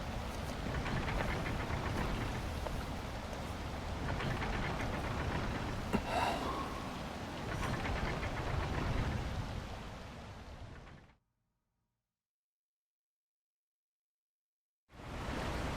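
Steady rain pours down in the video game Wild Hearts, a dense, even hiss that fills the scene for about eleven seconds, cuts to silence, then returns near the end.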